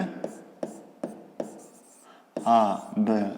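A hand writes triangle names during a fifth-grade geometry exercise, giving a series of short, regular scratchy strokes up close before a voice speaks at the end.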